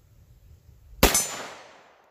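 A single sharp shot from a Glock G40 10mm pistol cracks out loudly, then a bright metallic ring decays over about a second.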